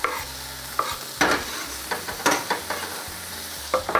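Onions and red pepper frying in a pan as a spoon stirs them, quick repeated scrapes and clatters over a lively sizzle, close up and distinct, with nobody speaking.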